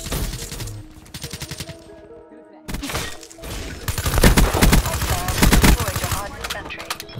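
Rapid bursts of automatic fire from a sentry gun in the shooter game Black Ops 3, loud and dense, with other game sounds in between.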